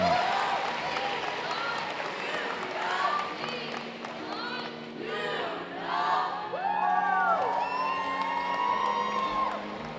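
An audience at the Science Olympiad national tournament awards ceremony applauds, cheers and whoops, with excited shouting voices and yells rising over the clapping throughout.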